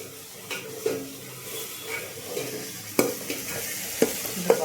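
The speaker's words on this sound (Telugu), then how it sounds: "అల్లం పేస్ట్ వేసుకొని ఇలా బాగా వేస్తాం. అల్లం పేస్ట్ పచ్చివాసన పోవాలి అట్లా." Ginger paste frying in a pan, a soft steady sizzle broken by repeated scraping stirs and light clinks of a spoon against the pan.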